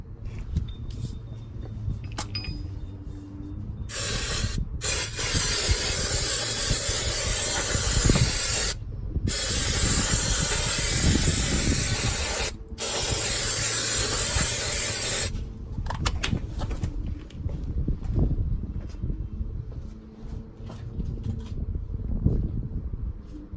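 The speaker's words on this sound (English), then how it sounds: "brake and clutch parts cleaner, and it is just an aerosol, so we'll just give it a good lash of this" Aerosol can of brake and clutch parts cleaner sprayed onto car brake calipers at home, loud steady hissing bursts of several seconds each, separated by short pauses, close up with no talking.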